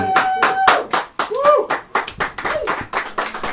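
A comedy club crowd claps for a comedian at a live show. Dense, close hand clapping runs throughout in an uneven rattling burst, with a few voices mixed into the applause.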